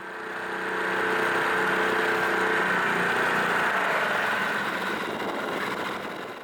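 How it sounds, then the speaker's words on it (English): A boat outboard motor runs steadily at quarter throttle along a sheltered reef-lined coast off Skye, a continuous mid-pitched drone that swells in and fades slightly at the end, with no voices. "My outboard was given an easy time too, running on quarter throttle"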